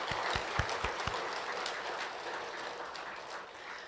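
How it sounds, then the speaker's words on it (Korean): A temple congregation applauding, a wash of many hands clapping at steady moderate volume, with a few low thumps near the start. "힘찬 박수 한번 보내드릴까요?"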